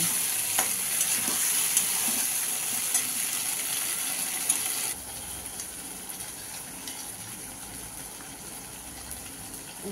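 Spice paste of ground melon seeds, cashews, poppy seeds, ginger, cumin and chilli powder frying in butter for paneer butter masala, a steady close sizzle with stirring scrapes, quieter after a few seconds.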